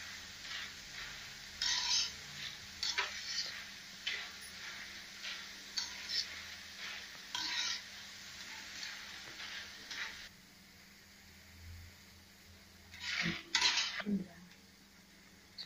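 Karam boondi drops frying in hot oil, with soft crackling sizzle and intermittent scraping and ladle clinks against the pan, fairly quiet and close, easing off near the end before a final burst of clattering.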